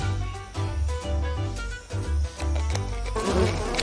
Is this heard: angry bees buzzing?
yes